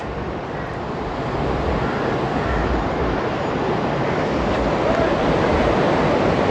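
Sea waves at Digha beach surge in a loud, continuous roar with steady breaking surf and some wind noise, close and unbroken for the whole stretch.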